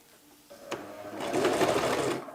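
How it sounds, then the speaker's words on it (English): Sewing machine stitching a fabric hem, starting with a short burst and then running steadily at a fast, buzzing rhythm, close and fairly quiet. "I'll place the edge against the sewing allowance guide of 1 inch on the sewing machine."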